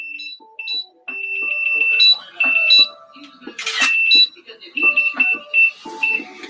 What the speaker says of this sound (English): Do you guys hear that beeping?